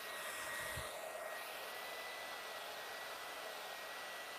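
A handheld hair dryer blowing on its cool shot setting during a salon blowout, a steady close airy whoosh with a faint motor whine throughout.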